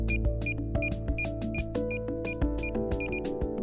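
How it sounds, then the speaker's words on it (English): A DJI Avata drone's remote controller emits a rapid, steady string of high beeps, repeating without pause over a dense background of other sound. "Press and hold the power button of the remote controller until it beeps continually"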